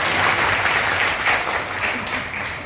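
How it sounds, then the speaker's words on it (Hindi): An audience at a Gandhi Jayanti cleanliness day event in Suratgarh claps together, a sustained dense round of applause that swells and slightly fades, with no voices over it. "मुझे एक बार ताली बजाओ"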